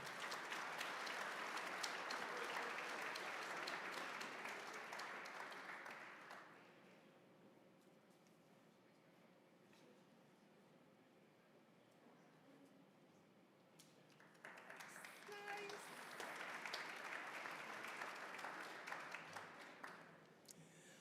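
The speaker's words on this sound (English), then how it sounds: "Please give him a round of applause." Audience at a golf awards banquet breaks into warm applause, a dense wash of clapping that fades out, then swells again for the next honoree.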